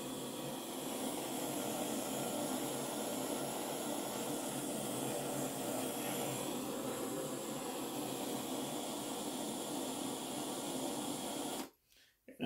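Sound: torch heating a rosin banger

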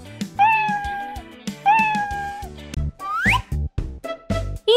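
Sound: cartoon cat meowing

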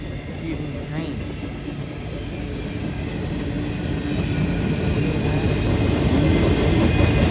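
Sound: freight train passing

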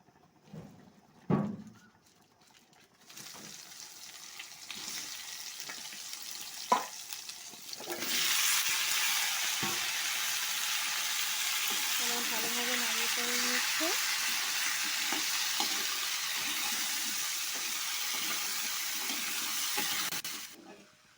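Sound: whole cumin and garam masala sizzling in hot oil

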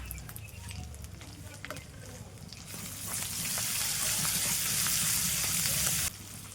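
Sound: cumin and chili paste frying in a pan

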